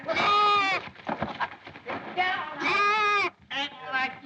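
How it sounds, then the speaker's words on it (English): A goat bleats loudly in a long wavering cry, then bleats twice more, close by, in a 1934 comedy-drama film scene. "That goat in your mint bed."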